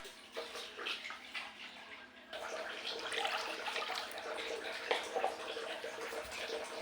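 Seitan dough being washed and stirred by hand in a bowl of water, a soft, continuous sloshing and splashing close by that grows busier after a brief quieter start, with no talking.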